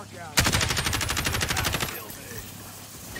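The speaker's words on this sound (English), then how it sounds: "We're getting shot at from somewhere." Rapid automatic gunfire from the Call of Duty Warzone battle royale game, a loud sustained burst of closely spaced shots lasting about a second and a half, followed by quieter ambient game noise.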